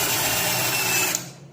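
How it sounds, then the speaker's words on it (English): Surgical drill boring into bone through an osteochondral autograft transfer sleeve, giving a steady high-pitched whir that winds down abruptly near the end of a short burst. "Then you're going to drill in until the shoulder of the sleeve touches the bone."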